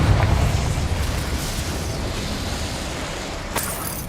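A Confringo blasting spell in Hogwarts Legacy explodes with a loud, broad rumbling burst that decays into a sustained roar, followed by a sharp crack near the end.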